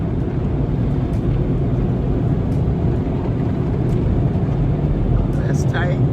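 Cars pass through a busy car wash in a steady wash of water and machinery noise, with a few brief sharp hisses and a squeak near the end.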